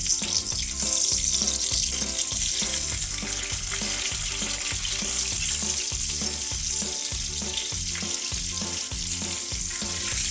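Chicken escalopes for a chicken-avocado fast-food-style burger fry in a pan over medium heat, giving a loud, continuous sizzle with a faint pulsing crackle throughout.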